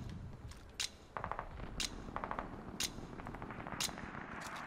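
Scattered gunshots in a Call of Duty Vanguard alpha match ring out in separate bursts over a dense, busy game background, some sharp and near, others more distant.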